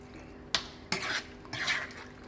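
A spoon stirs vegan spaghetti in a pan, giving a sharp clink followed by two stretches of wet scraping and swishing, close up and moderately loud, with no voices.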